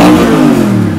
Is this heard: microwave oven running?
no